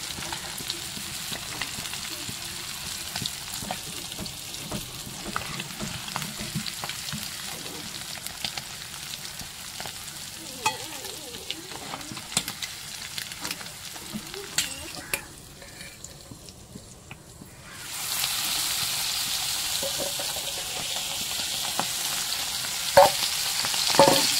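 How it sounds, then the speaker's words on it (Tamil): Prawns fry and sizzle steadily in a pan for a home-cooked prawn fried rice, a continuous crackling hiss with occasional stirring clinks, growing louder and brighter toward the end. "இறால் நல்லா பொரிஞ்சிட்டு இப்போ இந்த இறாலை எடுத்து நம்ம பவுலுக்கு மாற்றிடுவோம்."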